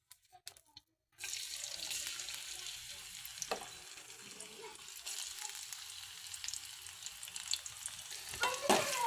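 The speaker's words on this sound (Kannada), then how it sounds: "ಈಗ ಕಾಯ್ದ ಎಣ್ಣೆಗೆ ಬೆಳ್ಳುಳ್ಳಿ ಹಾಕ್ಕೊಂಡ್ಬಿಡ್ತೀನಿ" Garlic dropped into hot oil starts a steady, bright sizzle that keeps going after a short quiet lead-in, with a few soft stirring clinks.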